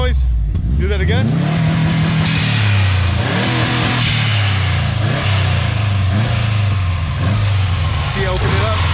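A 2005 Subaru WRX STI engine revved hard at close range, a loud sustained run of climbing and dropping revs with a brief idle dip, voices faintly underneath.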